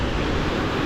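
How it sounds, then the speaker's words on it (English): Ocean surf rolling onto a windy beach, a dense continuous roar of breaking waves mixed with wind rumble on the microphone, loud and close with no voices. "The waves are bigger today."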